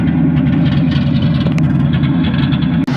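A 1972 Mercury Comet's stock 302 V8 with an aluminum water pump runs at a steady idle, loud and close, with a rumbling low throb and a brief dip near the end.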